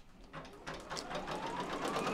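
An embroidery machine stitches applique placement in white thread, a steady fast mechanical whir and needle chatter, close and continuous with no talking.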